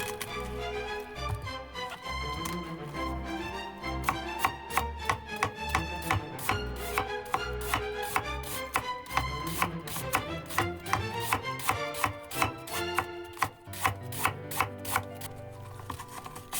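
A knife chops through cabbage for sauerkraut, steady rhythmic cuts that quicken into a fast, even series of crisp thuds on the board, close and clear.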